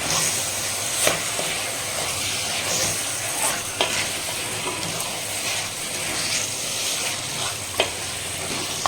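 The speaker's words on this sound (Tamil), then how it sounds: "சேர்த்துட்டு நல்லா அப்படி மிக்ஸ் பண்ணிக்கலாம்." Chicken roast masala being mixed in a clay pot: a steady broad sizzling hiss with occasional soft scrapes and taps of the spoon against the pot, close and even in level, no talking.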